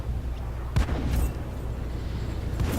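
Tank cannon shot in a tank combat video game, a single heavy boom near the middle with a second blast just after, over a steady low engine rumble.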